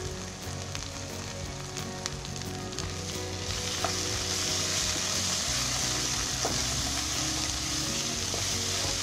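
Kokani masala and turmeric frying in hot oil for a Maharashtrian spinach curry, a steady close sizzle that grows brighter and louder midway, with occasional stirring clinks and no talking.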